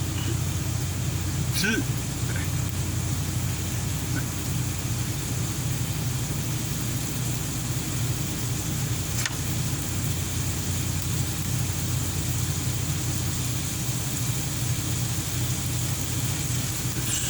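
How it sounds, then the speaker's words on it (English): A semi truck's engine drones steadily and low throughout, idling without change and shaking the cab, with faint speech mixed into the constant rumble. "Feels like, sounds like the truck shaking. It's because the engine's going"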